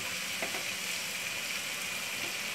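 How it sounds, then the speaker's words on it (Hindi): Vegetables stir-fry with sauces in a hot pan for fried rice, giving a steady, close, loud sizzle with no talking. "सारे सॉस को अच्छी तरह से मिक्स कर लिया।"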